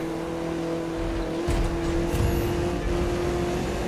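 Audi RS3 Sportback engine in The Crew 2 drones at high speed with a steady tone, a brief gear-shift dip and tire noise, heard fairly quiet and alone.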